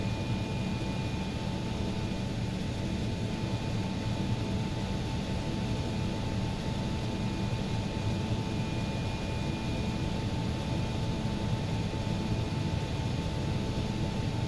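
A steady, loud whine and roar from an Embraer ERJ regional jet in a flight simulator game, holding an even drone throughout with faint high tones and no voices.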